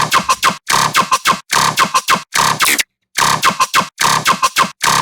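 Remixed string stabs pitched an octave higher, chopped into a new syncopated rhythm of short bursts with a brief gap midway, loud and upfront with no voices.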